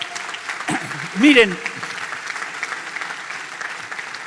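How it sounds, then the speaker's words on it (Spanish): A church congregation applauds during a Sunday sermon, a diffuse clapping wash running throughout, while someone speaks briefly over it. "¿Quiere aplaudir?"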